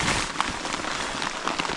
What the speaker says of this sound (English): Let's see how bad this rain is.